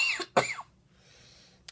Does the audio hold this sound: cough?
yes